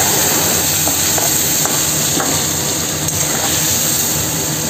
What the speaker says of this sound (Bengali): আলু পটলটা একটু ভাজা হয়ে গেলে নুন হলুদ লঙ্কা টমেটো সব দিয়ে দিলাম